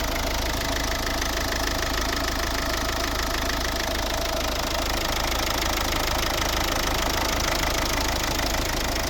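A 1.6-litre diesel engine in a 2010 Volvo S40 idles with a steady rattling knock, loud and constant close up, with no other sounds.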